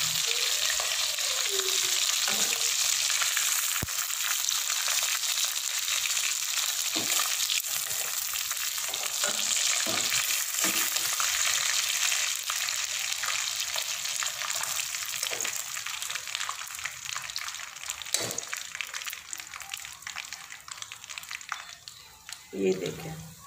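Chicken sizzles and fries steadily in a karahi, a continuous hiss with occasional stirring clatter, while someone talks over it throughout.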